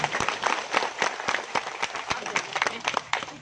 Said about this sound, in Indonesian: Tepuk tangan dulu Bapak Mama.